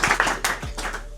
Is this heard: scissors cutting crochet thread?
no